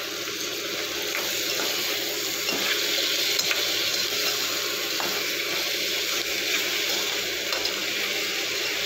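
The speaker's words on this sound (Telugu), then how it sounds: "ఉల్లిపాయలు వేగిన తర్వాత బంగాళదుంపలు, క్యారెట్ వేసి," Potatoes, carrots and tomato frying in a pan for a kurma, a steady close hiss of sizzling with occasional scrapes and clinks from stirring, no voices.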